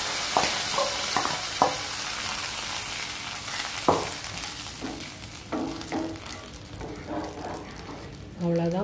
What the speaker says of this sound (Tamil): தாளிச்சதை இதில் ஆட் பண்ணிக்கலாம்.